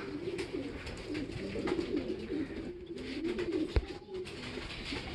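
Racing pigeons coo in a steady, low rolling murmur that continues throughout, with occasional faint clicks and brief sharper chirps over a constant background.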